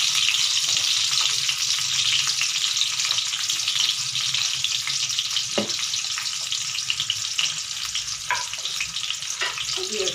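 Onions sizzle steadily in hot oil for a Tamil drumstick tamarind curry, a dense continuous crackle with a few sharper pops and scrapes, close and loud, with no talking.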